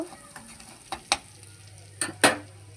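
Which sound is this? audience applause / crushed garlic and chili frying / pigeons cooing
crushed garlic and chili frying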